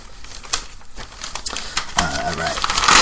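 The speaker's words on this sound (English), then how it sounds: "Sorry for the paper rumbling, ladies and gentlemen." Paper crinkles and rustles close to the microphone during a racing podcast broadcast, with irregular crackling bursts that grow busier toward the end, alongside background voices.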